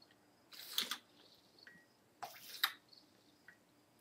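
Vinegar poured into a Pyrex glass of very hot water as part of a dyeing setup, heard as two brief splashy pours about two seconds apart with faint drips between, close and fairly quiet.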